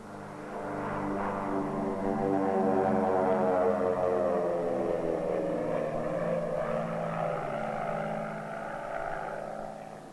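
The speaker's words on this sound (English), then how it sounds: "It is then taken to the transport aircraft, loaded in the aircraft, and sent on its way to Cape Kennedy." Propeller transport aircraft carrying a Gemini spacecraft to Cape Kennedy, a steady droning engine hum that swells and then fades slightly, heard alone.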